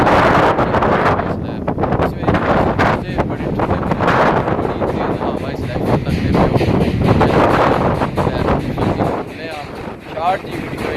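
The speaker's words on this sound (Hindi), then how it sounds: "कितनी तेज़ हवा चलनी पी है" Strong, cold wind blowing hard across the microphone, a loud, gusting roar that rises and falls throughout, with a person talking over it.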